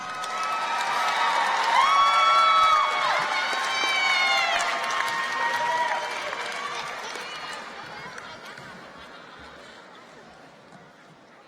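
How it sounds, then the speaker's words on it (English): A crowd at a 2019 Lancaster High School graduation ceremony breaks into loud cheering, whoops and shouts that ring out strongly at first, then gradually fade and die away. "Please give yourselves a round of applause and thank you."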